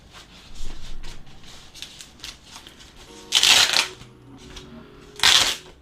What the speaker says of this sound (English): So let me unwrap.